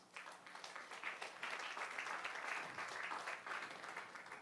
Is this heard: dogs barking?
no